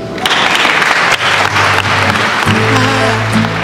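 Wedding guests applaud the newlyweds at an outdoor ceremony at Château d'Estoublon in Fontvieille. The clapping is loud and dense, and sustained music swells in underneath partway through.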